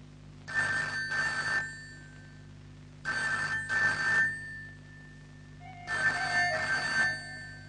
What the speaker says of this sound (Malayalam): എത്ര നേരമായി ഫോൺ അടിക്കുന്നു, അതൊന്ന് എടുക്ക്.